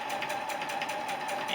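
A sewing machine runs steadily while stitching quilt fabric for a nine-patch block, giving a continuous close, even whir with a fast mechanical pulse and no pauses.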